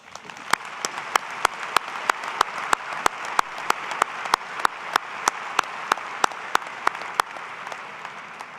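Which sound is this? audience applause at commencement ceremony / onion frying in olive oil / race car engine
audience applause at commencement ceremony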